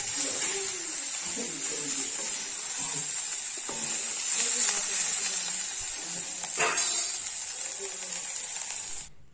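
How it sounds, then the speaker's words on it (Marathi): Papad fries in hot oil at home, a continuous bright sizzle and crackle close up, with faint voices in the background, cutting off abruptly at the end. "इकडे पापड मी विचार केला की तळून घेतो"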